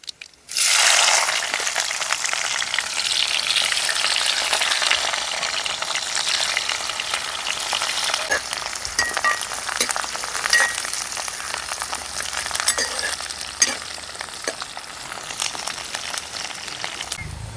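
Dried red chilies, crushed garlic and onion pieces hit hot oil in a pan with a sudden loud burst of sizzling, then fry in a steady, dense crackle with occasional stirring clicks throughout, and no voices.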